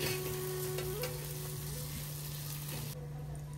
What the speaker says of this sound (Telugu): వేయించుకొని దీంట్లో మనం తీసి పెట్టుకున్న చికెన్ వేసేసాం. ఇప్పుడు దీన్ని అంతా కలిపేసుకుందాం.